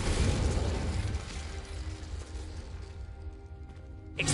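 Confringo explosive spell cast in the video game Hogwarts Legacy, a loud fiery blast with a rumbling boom that fades into a crackling decay, followed by a faint pop at the end.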